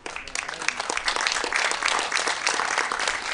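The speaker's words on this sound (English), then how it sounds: "give these sophomores a big round of applause for their hard work, dedication, and success here at ICC" Crowd at an ICC college baseball game against Delta claps for sophomore players: dense, sustained applause that starts quickly and holds steady at close range for a few seconds.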